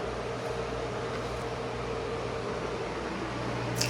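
Onion hits hot oil in a pan and sizzles as a steady, even hiss that holds for four seconds over a low background hum.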